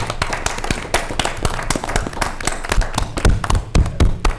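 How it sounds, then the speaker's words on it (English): Audience applause for service officers at a community gathering: uneven, fairly loud clapping with sharp individual claps and thuds, sustained across the clip without speech. "So we should give them a round of applause"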